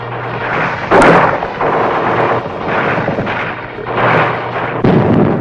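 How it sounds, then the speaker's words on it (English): Heavy booming gunfire and blasts in repeated bursts from street fighting in the Vietnam War, loud and reverberant like distant battle, with a low steady hum underneath. "Gunfire roared in the streets and panic spread throughout the population."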